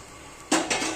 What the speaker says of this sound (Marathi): तर आता मी परातीत काढून घेते.